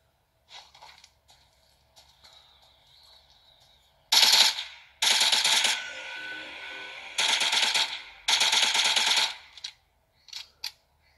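Gunfire in a mobile shooter game running on a Xiaomi Mi A2 smartphone: several loud bursts of rapid automatic shots, separated by short quiet gaps, with a few faint shots before and after.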